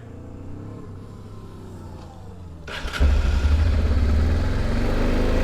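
A 1999 Honda Transalp 600V with a carbureted engine cranks briefly, then catches and roars to life, settling into a loud, fast, high idle that holds steady close by.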